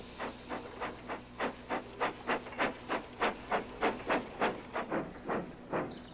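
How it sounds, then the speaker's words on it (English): A steam tram engine from Thomas & Friends chuffs in a steady rhythm, about twenty sharp hissing puffs of steam in a row, loud and close, with no voices. "Toby's only a steam tram, Gordon huffed"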